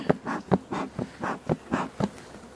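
Honeybees robbing around a hive feeder make a close, buzzing drone that swells and fades in quick repeated pulses as insects dart past, with no voices.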